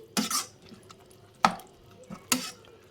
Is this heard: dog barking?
no